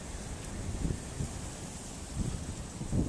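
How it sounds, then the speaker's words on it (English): Steady wind buffets the microphone with low rumbling gusts, a continuous blustery roar with no voices, at night in Yokohama. "it's so dark and windy"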